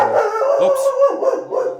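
A pet dog barks and howls indoors, a near, fairly loud wavering howl with a few yips running through the whole short stretch, with no talk over it.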